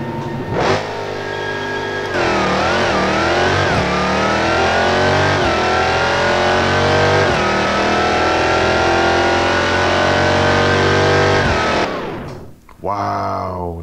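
A wide-body Dodge Hellcat with an upgraded intake revs hard and pulls through a drag race in a driving game, its loud engine roar climbing and shifting steadily for about eleven seconds before cutting off, then a brief second burst.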